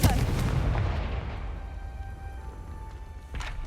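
A Confringo blasting spell cast in Hogwarts Legacy erupts as a loud, booming burst that rolls out into a long fading rumble with ringing tones, followed by a second smaller blast near the end.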